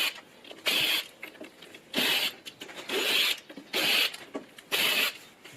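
A manual shock screwdriver loosens screws on a 48V 42Ah NIU e-scooter battery, model 4803. Five sharp, rasping ratchet-like bursts repeat at a steady pace about a second apart, close and fairly loud, with no talking.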